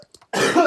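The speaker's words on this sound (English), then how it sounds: "I'm going to cough really loud." A single loud cough bursts out after a stretch of near silence and a couple of faint small sounds, close and harsh, filling the last half of the moment with no talking.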